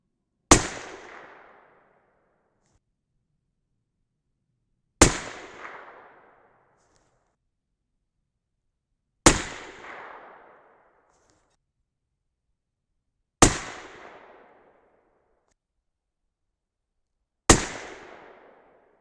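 Five loud 6.5 Creedmoor rifle shots with 43.1 grain H4350 loads crack out alone, spaced roughly four seconds apart, each sharp report followed by a short rolling echo and silence.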